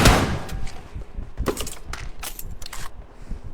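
Rapid bursts of gunfire in the PUBG Mobile battle royale game, loud sharp shots in quick irregular strings, alone with no talking.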